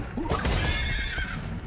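A huge mammoth-horse creature in Prince of Persia: The Lost Crown lets out a loud, close neigh with a wavering, drawn-out whinny over low rumbling game sound.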